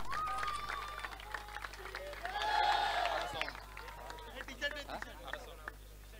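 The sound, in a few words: applause at cricket match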